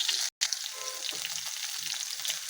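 Ground paste of ginger, garlic and onion frying in a pan for a spring onion, egg and potato dish, giving a steady close sizzle with a brief cut of silence and light scraping, no voices.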